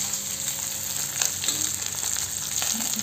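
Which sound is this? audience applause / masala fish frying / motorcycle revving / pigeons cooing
masala fish frying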